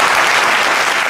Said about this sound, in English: Give him a round of applause, DJ. Round of applause for them